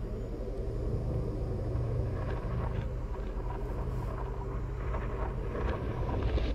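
A fleet carrier in the space game Elite Dangerous spools up for a jump, giving off a steady, heavy low rumble with a windy, airy wash over it that holds at an even loudness throughout.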